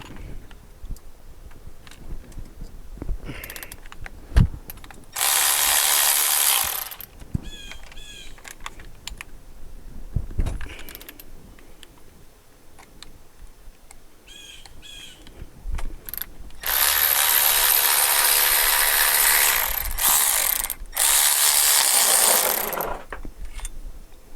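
A ratchet wrench turning a wobble socket while working on a 1963 Pontiac Grand Prix, with bursts of rapid close clicking in two long runs and several shorter ones separated by quieter handling noises and faint clinks.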